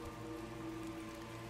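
Rain falls at night at a bus stop, a steady even patter on surfaces that stays constant and moderately loud with no voices.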